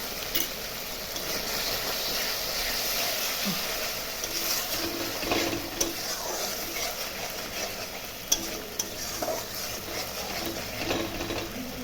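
Spices with Kashmiri chilli powder and a little sugar fry in oil while a spoon scrapes and stirs them, a quiet continuous sizzle with scattered clinks and scrapes throughout.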